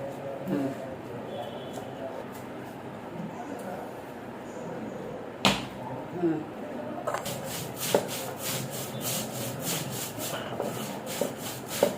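Black cumin (kalijira) ground by hand on a stone slab with a stone roller, producing close, repeated gritty rubbing and scraping strokes, with a few sharp knocks, at a modest level throughout.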